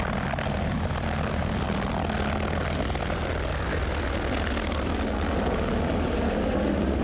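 A sightseeing helicopter lifts off beside Gokyo lake in the Himalayas, its engine and rotor roaring loud and steady at close range for the whole stretch, with no talking over it.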